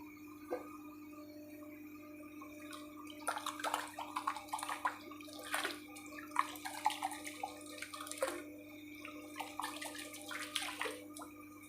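Liquid molasses, about 50 millilitres, pours and splashes into a small fish pond set up for biofloc, a soft trickling patter over a steady aerator hum, with no talking.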